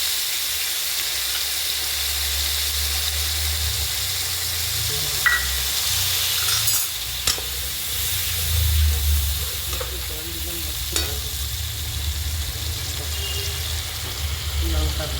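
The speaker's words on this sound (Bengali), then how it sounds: "কিছুক্ষণ আমরা পটলকে হাই ফ্লেমে নেড়ে চেড়ে ভেজে নেব।" Pointed gourd frying over a high flame, a loud steady sizzle and hiss with occasional scraping stirs of a spatula in the pan, close and continuous throughout.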